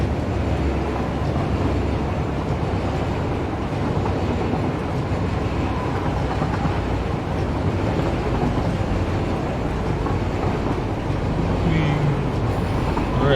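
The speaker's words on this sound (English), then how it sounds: "Bye, train." A train rolls past in the video game Satisfactory, a steady, dense rumble with rhythmic rail clatter that holds at an even, fairly loud level throughout, with speech faintly present underneath.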